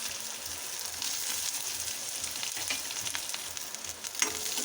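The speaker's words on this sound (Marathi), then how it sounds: "आता कांदा घालायचा एक बारीक चिरलेला" Finely chopped onion sizzles steadily in hot oil with mustard seeds, cumin and curry leaves, a continuous bright crackle with faint stirring and a small pop near the end, no voices.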